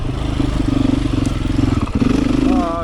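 A Beta 500 dirt bike engine chugs loud and close on a trail, its pulsing mid-range throb shifting pitch with throttle and a short dip before rising again.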